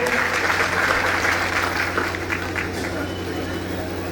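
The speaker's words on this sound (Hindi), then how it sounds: "जोरदार ताली बजा के इनका स्वागत करिए" Loud crowd applause welcoming Rakesh Singh, divisional president of Vindhyachal division, at a Suheldev Bharatiya Samaj Party gathering in Sonbhadra; dense, steady clapping fills the whole stretch with a faint crowd murmur beneath.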